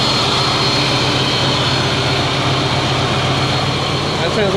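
Subaru SF5 Forester engine idling with no exhaust leaks: a loud, steady broadband whir and hum close to the engine bay, continuous and unchanging throughout.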